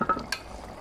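Beef curry stirred in a pan at home, giving a short, close scrape and clatter of a spoon with a light sizzle underneath, brief and fairly quiet.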